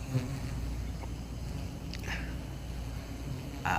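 Honeybees buzzing in a low, steady drone, with a few individual bees passing close by.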